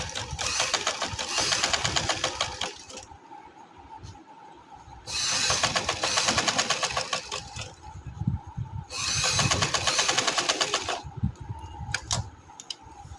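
Domestic sewing machine stitching a neckline on ribbed fabric, running in three loud steady bursts of rapid mechanical ticking separated by short quieter pauses with handling noise.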